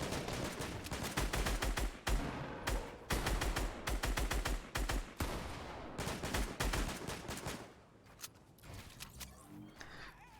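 Rapid bursts of gunfire in a Fortnite playoff match, dense clattering volleys of shots in quick succession that thin out toward the end, loud and close.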